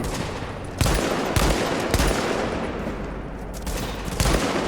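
Gunfire from The Division crackles over a thick, noisy firefight, with a few sharper close shots punching through at irregular intervals.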